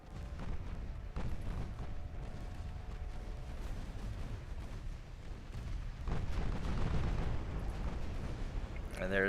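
Enemy warships fire naval guns in the Ultimate Admiral Dreadnoughts game. The sound is a continuous dense rumble of booming salvos and distant detonations, swelling louder toward the end, with someone talking over it.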